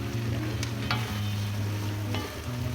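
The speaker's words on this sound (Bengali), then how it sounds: "এখন এটাকে নাড়াচাড়া করে ভালো মতো কষিয়ে নিতে হবে" Taro stolons (kochu loti) being stirred and fried in a pan, giving a close, continuous sizzle with scattered scraping stirs over a steady low hum.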